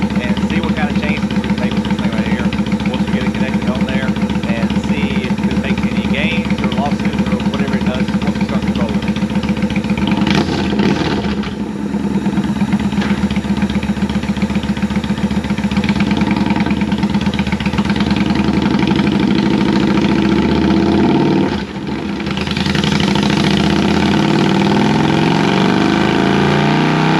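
A 2009 Kawasaki Vulcan 900 motorcycle engine runs steadily on a dyno with its fuel controller unhooked, a loud continuous drone with brief dips near 11 and 22 seconds.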